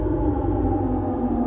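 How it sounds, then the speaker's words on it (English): A Siren Head-style siren sound in a video game, a steady, loud droning wail held the whole time with layered low tones and no talking. "That sounds like some siren head type of sound"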